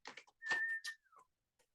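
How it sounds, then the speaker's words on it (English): A brief, quiet whistle holds one note before sliding down, surrounded by soft breathy noises, close by with no talking. "Oh, I'm whistling."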